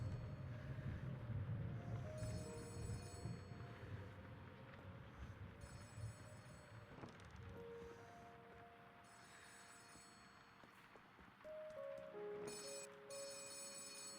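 A video game office phone rings with repeated electronic trills, fairly quiet against a low background hum, with no talking.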